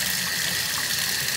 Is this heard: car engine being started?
no